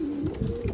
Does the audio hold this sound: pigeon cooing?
yes